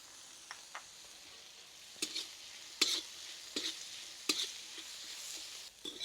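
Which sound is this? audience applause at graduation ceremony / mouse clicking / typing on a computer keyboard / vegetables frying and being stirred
vegetables frying and being stirred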